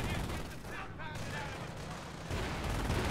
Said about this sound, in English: The other Hetzer is also shooting at my Crocodile.